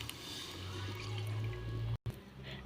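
Water is poured into a pan of potatoes frying in spice masala, giving a steady wet hiss and sizzle over a low rumble, with a brief dropout near the end.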